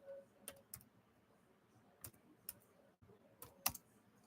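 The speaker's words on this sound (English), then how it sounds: "even me typing is better because I don't have my nails on." Typing on a computer keyboard with bare fingertips, no nails: sparse soft key clicks in small irregular clusters, close but faint over a quiet room hum.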